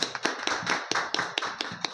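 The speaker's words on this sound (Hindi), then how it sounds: "एक बात जोरदार ताली बजाइए भैया आनंद दुबे जी के लिए।" Audience applause at a Hindu organisation's gathering in Thane, Maharashtra: a burst of hand claps with sharp, irregular taps, fairly close and moderately loud, with no talking over it.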